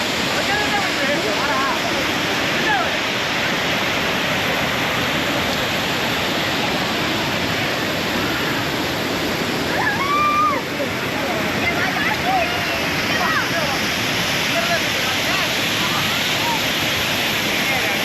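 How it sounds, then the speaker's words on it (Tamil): Kumbakkarai Falls, water pouring over rocks in a steady, loud broadband roar that holds unbroken throughout, close and alone. "இதோ பாருங்க, இதுதாங்க ஃபால்ஸு."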